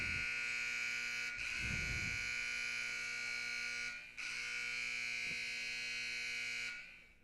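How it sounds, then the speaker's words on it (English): A buzzer at a goalball tournament sounds as a harsh, steady electronic drone that holds for several seconds in a large hall, with faint background noise. "After that a bit of an obnoxious buzzer"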